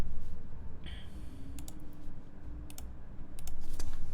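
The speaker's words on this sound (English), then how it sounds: "Yeah, it does sound like a keyboard." Keys on a plateless XENO mechanical keyboard clack in sparse, irregular presses over a loud steady background rush, with no talking.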